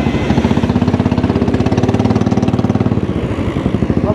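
A Royal Enfield Bullet motorcycle engine runs close and loud with a rapid, even thumping exhaust beat that holds steady throughout.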